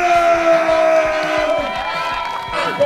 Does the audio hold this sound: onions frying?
no